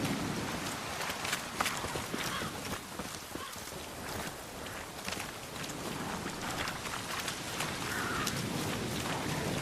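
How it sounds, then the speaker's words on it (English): Rain in The Witcher 3 falls as a steady broadband hiss and patter, moderately quiet and unbroken, with faint low rumbles underneath. "Looks like rain."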